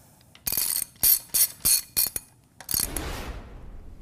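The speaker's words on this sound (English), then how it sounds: "you can then begin tightening the jacking screws" A ratchet wrench tightens the jacking screws on a Gorman Rupp Super T10 pump, with several quick bursts of close metallic clicking separated by short pauses, then a softer scraping rattle that fades out.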